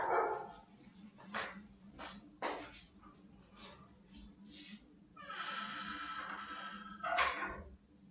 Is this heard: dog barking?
yes